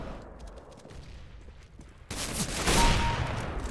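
Gunfire in Counter-Strike on a bombsite: a quiet stretch of faint game ambience, then a sudden burst of loud, sustained rapid shots with dense crackling bursts filling the rest, including sniper fire.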